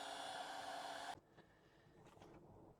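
Hair dryer blowing air over wet paint on a handmade book plate, a steady loud whoosh that cuts off abruptly after about a second, leaving faint handling noises.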